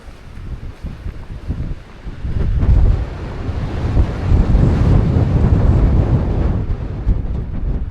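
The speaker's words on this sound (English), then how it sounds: "No wonder it's so windy up here." Strong wind buffets a microphone at a 10,243-foot mountain summit in Yellowstone National Park, rising into a loud, continuous rumble after a brief lighter start.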